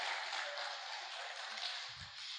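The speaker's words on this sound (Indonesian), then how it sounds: "Kasih tepuk tangan sama tante ya." An audience claps for a woman at a parenting talk on raising children well, a steady, fairly faint wash of hands that holds evenly throughout, with a brief low thump near the end.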